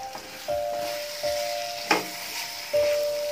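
Spicy mutton sukka stir-fried in a pan, a steady close sizzle broken by a few scraping stirs, one sharp clank near the middle, and a thin tonal whine running underneath.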